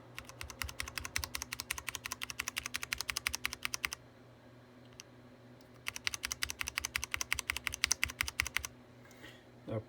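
Rapid clicking of unlubricated mechanical keyboard switches being pressed one after another, in two long bursts with a short pause between, close and crisp over a faint low hum.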